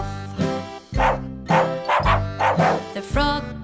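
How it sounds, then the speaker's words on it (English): Cartoon-style dog woofs bark out in a short repeated pattern over a bouncy nursery-rhyme tune, loud and close with the music playing throughout. "The dog goes woof."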